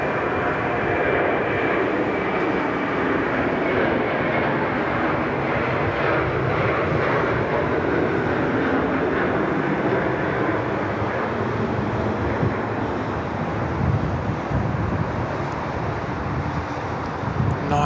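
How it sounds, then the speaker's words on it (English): Qantas 81, an airliner bound for Singapore, departs Sydney Airport with a loud, continuous jet engine roar that holds steady throughout, heard from a distance with no voices. "Nice departure there from Qantas 81."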